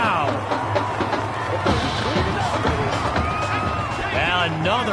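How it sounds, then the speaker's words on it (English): A stadium crowd roaring in the Madden 21 football video game after a big completed pass, a broad swelling roar and cheering with scattered whistles, mixed with commentary and game effects. "A big-time play that gets a roar from this crowd."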